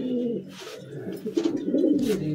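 Madrasi high flying pigeons cooing inside a loft in Behala, Kolkata, with low, rolling coos repeating close by and overlapping throughout, plus a few faint higher chirps.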